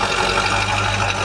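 A petrol V8 of almost six litres with one small exhaust runs briefly at a steady idle, producing a low, even rumble for just over a second with no voices.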